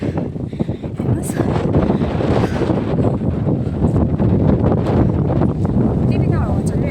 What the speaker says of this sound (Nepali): यहाँ चाहिँ अहिले चाहिँ पुरा हावा चलिरहेछ